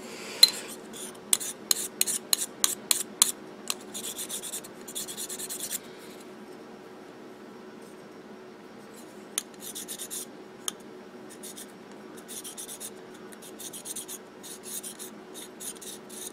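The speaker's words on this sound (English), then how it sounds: "Because the diamond stone will put a little polish right on them." A diamond stone rubs and rasps over high spots on a metal harmonic indexer part, close up, in short scraping strokes. They come rapidly in the first few seconds, then settle into sparse, quieter strokes with no talk.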